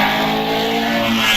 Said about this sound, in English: Patrick Blakeney Edwards really hurling the Frazer Nash up Prescott.